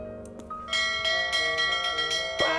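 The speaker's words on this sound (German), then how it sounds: "Nee, hier ist bloß die Glocke. Wir läuten die nochmal." A bell is rung in the fairy-tale adventure game The Whispered World, giving a clear, resonant series of bright metallic chimes that ring out and sustain, with no talk over them.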